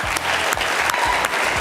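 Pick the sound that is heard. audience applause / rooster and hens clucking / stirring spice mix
audience applause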